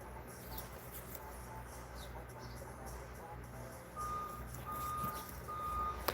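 Repeated high electronic beeps from construction work on a nearby house start midway, spaced in a regular pattern over a low engine rumble and background hum, moderately distant.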